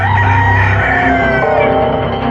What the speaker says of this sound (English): there was a big chicken problem somewhere